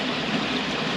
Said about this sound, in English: Now you can hear the water, so it's going below the level.